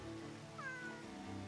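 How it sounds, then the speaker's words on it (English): A big cat meows in a video game, a single drawn-out rising and falling call heard clearly over a steady low game soundscape. "Cat! It's a big cat."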